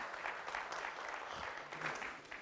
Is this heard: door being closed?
no